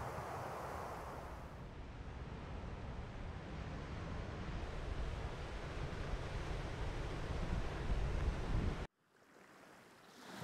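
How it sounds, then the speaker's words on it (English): Ocean waves crash continuously against rocks, a dense roaring wash with wind buffeting the microphone, ending abruptly before a quieter stretch. "the waves continuously crashing against the rocks without end"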